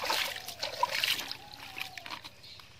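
Water trickling and splashing as washed chicken meat drains in a basket, irregular dribbles and small splashes close by, with no voices.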